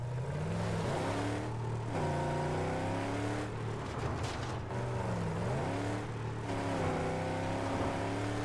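A car's engine drones steadily while driving in the video game Mad Max, with rising and falling revs as it shifts and accelerates, loud and continuous with no talk.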